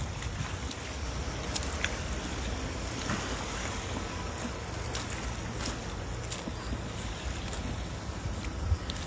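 Boat passing on open water on a windy morning at a fishing spot, a low steady hum under wind and lapping water, fairly faint and distant with no voices.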